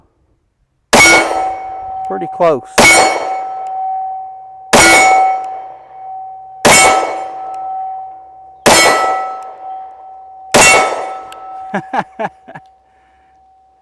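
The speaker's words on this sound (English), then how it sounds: "We'll shoot that big pizza size, big 16-inch gong there." A 16-inch, quarter-inch-thick steel gong struck by 9mm rounds from a Diamondback DB9 Ultralight pistol, six sharp clangs each followed by long sustained ringing, with someone briefly speaking between hits.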